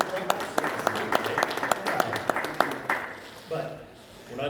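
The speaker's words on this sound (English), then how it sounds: "let's give a nice round of applause to the new" A round of applause at a homeowners' association board meeting, with sharp repeated claps from a small group of people in a room, fading out after about three seconds, with talk in the background.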